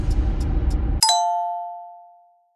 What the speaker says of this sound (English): A message notification lit up the screen.